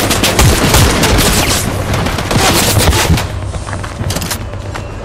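Dense, overlapping gunfire and bursts rattle through a Fortnite Chapter 5 Season 1 squad match, loud and continuous for most of the stretch before thinning slightly near the end.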